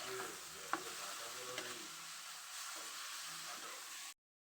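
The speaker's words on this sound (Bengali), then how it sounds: "কিছুক্ষণ নাড়াচাড়া করে আমি আলুটা ভেজে নেব।" Finely chopped potatoes fry in a pan with softened onion, a steady sizzle with stirring scrapes and a sharp clink near the start, close and quiet before cutting off abruptly.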